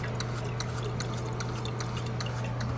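Water runs continuously through a toilet that keeps leaking with the supply turned off, a steady loud rushing and splashing flow over a low constant hum.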